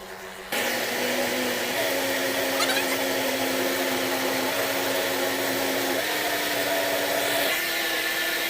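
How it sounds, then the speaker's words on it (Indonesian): A kitchen blender whirs loudly and continuously after starting abruptly, blending a hunkwee flour mixture with a little water, its motor pitch shifting slightly in steps as it runs. "Kita blender."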